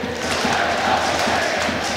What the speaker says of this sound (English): Singing with the Wrexham fans, clapping with them